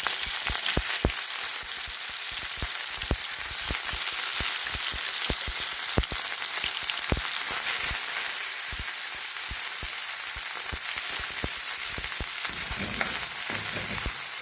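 Chopped dried bombili fish frying steadily in hot oil, a loud continuous sizzle with frequent sharp pops and crackles throughout, close and unbroken by voices.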